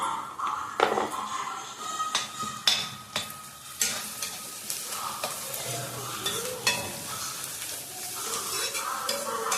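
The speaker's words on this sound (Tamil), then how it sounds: "இது ஒரு 2 நிமிஷம் வதக்கினா போதும்" Ingredients sautéing in a pan with a soft sizzle, punctuated by sharp spoon taps and scraping stirs against the pan at irregular intervals, fairly quiet and close.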